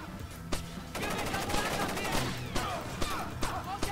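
Gunfire in the stealth video game Splinter Cell: Chaos Theory, chemical plant level, with repeated sharp shots and bursts over a dense, busy game soundscape, with a voice talking through it.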